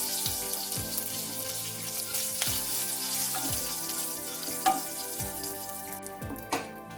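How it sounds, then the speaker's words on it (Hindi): Curry leaves sizzle in hot oil in a kadhai while a coconut fish curry is cooked, giving a steady close crackling hiss with a few sharper pops and clinks. "ऑयल अच्छे से गर्म होने के बाद हम उसमें कड़ी पत्ता डाल देंगे"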